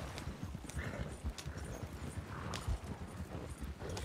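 Horses hauling a slow-moving wagon in Red Dead Redemption 2, their hooves beating a steady, close clip-clop that runs continuously over a soft background hiss.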